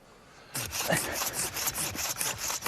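A hand saw cuts through woody plant stems in a garden, its strokes rasping in a steady back-and-forth rhythm. The sawing is close and fairly loud and runs on without pause, with no talk over it.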